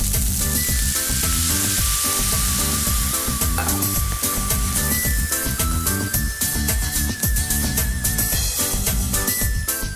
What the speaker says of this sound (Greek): Και έχω ένα πολύ ωραίο τηγανιτό ρύζι στην πιο απλή του μορφή.